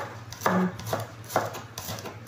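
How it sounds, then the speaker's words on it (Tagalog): A knife chops through fresh ginger on a cutting board for Hainanese chicken rice, giving a few separate, fairly close thuds spaced about half a second apart over a low steady background hum. "Slice ang ginger at saka scallion"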